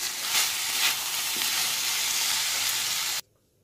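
Sauces with salt and sugar being stirred in a hot pan while preparing sour and spicy chicken soup: a steady, close hissing sizzle with a few brief scraping swells that cuts off abruptly near the end.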